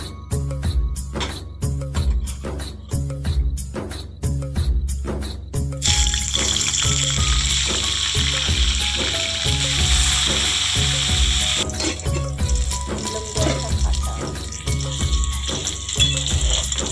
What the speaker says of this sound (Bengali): আগে ফুলকপিগুলো ভেজে নেবে।